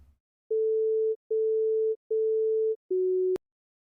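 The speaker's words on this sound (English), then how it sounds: "Some tones will be so close together that you might not hear them change direction at all." Four short steady test tones from the Brain Tests video game play one after another, the last slightly lower in pitch and cut off by a sharp click, clean and isolated.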